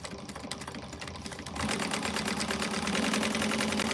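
A sewing machine runs continuously, top-stitching a quilted bag, its rapid mechanical whir growing louder and denser partway through.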